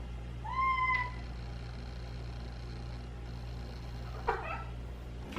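A house cat in a kitchen gives one clear rising meow near the start, followed by a brief fainter call a few seconds later, over a steady low indoor hum with no talking.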